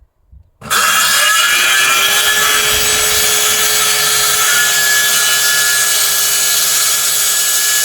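A jigsaw cuts wood during a Luton van conversion, starting abruptly after a brief quiet moment and then running loud and steady with a continuous high buzzing whine to the end.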